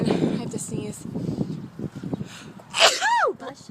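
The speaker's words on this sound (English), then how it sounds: "and then I have to sneeze" A single sharp human sneeze bursts out near the end, preceded by quiet breathy background and faint wind, close and loud against the microphone.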